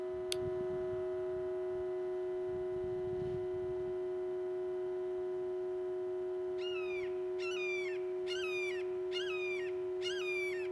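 A raptor call played back from a video, a series of five repeated sharp, descending whistled notes in the latter part, over a steady electrical hum.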